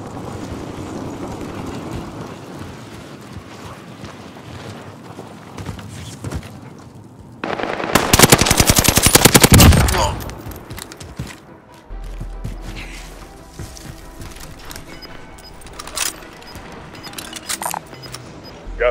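In a Call of Duty match, a dense burst of SMG gunfire crackles for about two seconds amid softer ambient game noise and rumble, with scattered smaller clicks and effects before and after.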